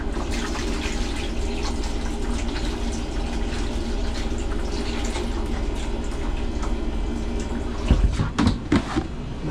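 Bleach water drains from an ice machine bin down into the drain with a steady, close, continuous rushing flow. A few light knocks come near the end.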